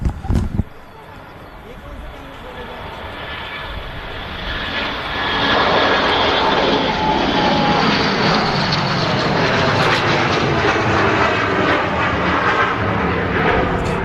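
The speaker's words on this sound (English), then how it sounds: "It's just taxiing out now past the tower" A Gulfstream jet taxis past the tower at Manchester Airport, its engine roar loud and close, rising over the first seconds and then holding a steady, broad whine.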